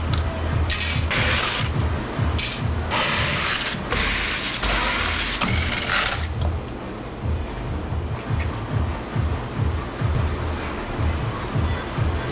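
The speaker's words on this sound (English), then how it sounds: "This freaking drill" A power drill works through a box of scrap aluminum, giving intermittent bursts of loud, high whining noise over the first six seconds before settling into a lower, steady mechanical rumble, with no talking.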